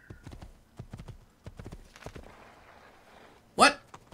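A brown horse gallops in the video game Assassin's Creed 2, its clip-clop hooves beating in a quick, steady rhythm that ends in a sharp, loud snort or whinny. Game sounds and voices run underneath.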